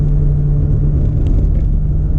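A mid-engined Lancia Beta Monte Carlo on the move, heard from inside as a loud, steady engine drone with a low humming tone and constant road rumble, no talking.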